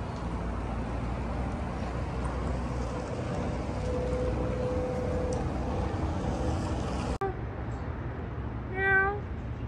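A short rising-and-falling cat meow near the end, following steady low rumbling background noise with a brief click.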